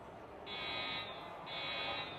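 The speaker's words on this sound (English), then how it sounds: "all right, so the fire alarm's going off." A fire alarm sounds in two long, shrill tones with a short gap, somewhat muffled over steady room noise.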